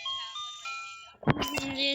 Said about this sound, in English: The ice cream truck's stopping.